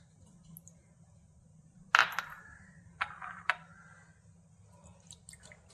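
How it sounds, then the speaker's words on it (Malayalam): Washed aloe vera pieces drain in a sieve in a home kitchen, giving a few sparse drips and light clinks, quiet and separate, over a low background hum. "ഇതൊന്ന് കഴുകിയിട്ട് ഒരു അരിപ്പയിലേക്ക് അരിച്ച് മാറ്റി വയ്ക്കാം"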